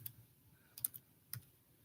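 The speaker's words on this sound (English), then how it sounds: "Keyboard, type." A few sparse keystrokes on a computer keyboard, soft isolated clicks in two small clusters against a quiet background, close and without talk.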